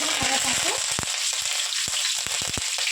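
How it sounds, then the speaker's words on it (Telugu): Half a spoon of cumin seeds hit hot oil for a chicken masala curry, a dense crackling sizzle with sharp pops and a few utensil clicks, close and without talk. "నూనె కాగిపోయింది ఇప్పుడు ఒక హాఫ్ స్పూన్ జీలకర్ర వేసుకుందాము"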